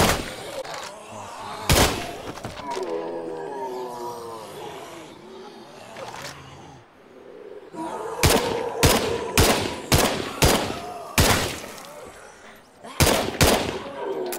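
Rapid gunfire in State of Decay 2 during a Dread Zone fight with the Coalition, sharp loud shots in short clustered bursts separated by quieter stretches of voices and game ambience.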